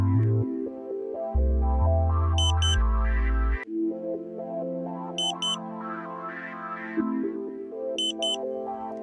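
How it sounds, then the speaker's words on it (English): A Ka-Sat satellite modem plays SNR meter alignment tones during dish pointing: a sequence of electronic beeps and stepped pitches, then a rising, warbling tone pattern with short repeated high pips. "You hear the ambulance tone again, and then the locking tone."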